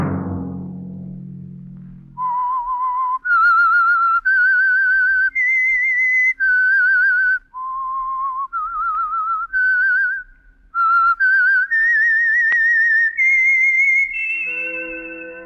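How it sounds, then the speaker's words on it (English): The whistled theme of the radio drama The Whistler: a melodic tune, clear and close, moving through a series of held notes with short pauses, after a brief low rumble at the start. "Let that whistle be your signal"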